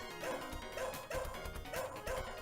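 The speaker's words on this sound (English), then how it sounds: "My dog's getting driven crazy by those ninjas." A dog barks and yips several times in a room, in short, fairly loud bursts over steady background game music from the arcade title Shadow Dancer.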